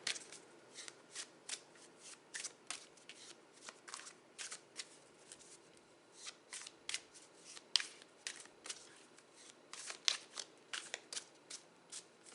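Tarot cards being shuffled by hand, heard as a close, crisp run of riffling flutters and slaps in an uneven rhythm, each burst sharp and brief against a quiet room.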